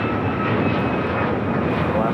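Alaska Airlines Boeing 737 MAX 9 taking off at LAX, a steady close jet roar with a person talking over it.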